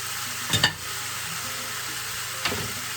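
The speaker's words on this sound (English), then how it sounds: "now I'm going to put in the next lot of veg" Chicken with celery and carrot stir-frying in a pan over high heat, a steady close sizzle with two brief clattering stirs, and no one talking.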